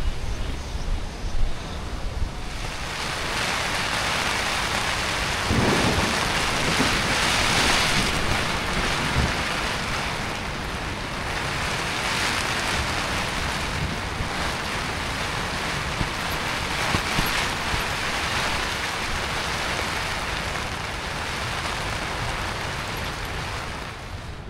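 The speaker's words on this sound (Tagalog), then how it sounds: "Lakas ang hangin." Strong wind roars steadily during a typhoon on a Quezon coast, a dense, rushing gusting noise that hardly lets up, with buffeting against the microphone throughout.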